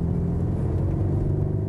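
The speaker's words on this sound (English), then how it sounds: "and there's a sporty roar" Artificially boosted sporty engine roar from a Peugeot 308 GT in sport mode, a steady, loud low rumble heard from inside the car without pause.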